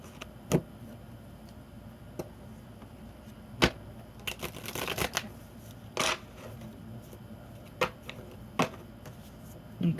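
A deck of tarot cards is handled quietly, with scattered soft taps and clicks and one brief riffling burst of shuffling in the middle, all over a faint background hiss.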